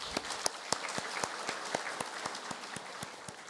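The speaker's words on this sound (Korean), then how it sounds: "우리 하나님께 영광의 박수 올려드리겠습니다" Steady applause from a church congregation during a Sunday worship service, dense overlapping claps sustained for several seconds at moderate distance, with no voices over it.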